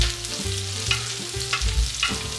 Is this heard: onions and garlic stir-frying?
yes